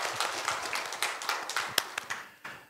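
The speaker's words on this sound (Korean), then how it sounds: "하나님께 영광의 박수 올려드리겠습니다." A church congregation claps together during a worship service, a quick uneven patter of many hands that carries on for a few seconds, moderately loud and close, with no one speaking over it.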